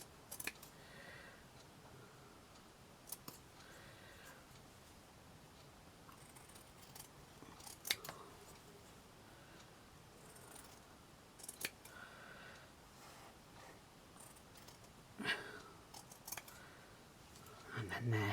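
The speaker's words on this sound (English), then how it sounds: "Let me just cut that off because I know it'll annoy me." Scissors snip through felt while a Christmas star decoration is made, giving scattered sharp close clicks and cuts at irregular intervals over a quiet indoor background, with a voice talking at times.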